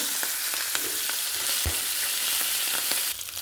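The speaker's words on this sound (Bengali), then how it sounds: "কাঁকড়াটা ভেজে নেব" Crabs fry in hot oil, giving a loud, dense, continuous hiss close by, with a few faint knocks from stirring and a brief thud in the middle, and no talking.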